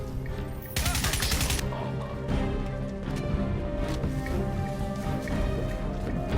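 A loud burst of rapid automatic gunshots rings out in the Crysis 1 Remastered video game, lasting about a second, followed by steady background game ambience and scattered fainter sounds.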